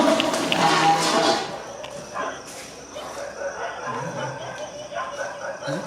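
Dogs bark from several directions at night, a loud burst at the start followed by fainter, scattered barks in the distance.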